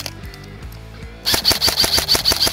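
A Specna Arms SA-E06 M4 carbine airsoft electric rifle with an electronic trigger fires a full-auto burst at a tree. Quiet mechanical ticking comes first, then a rapid, evenly spaced string of loud, crisp cracks.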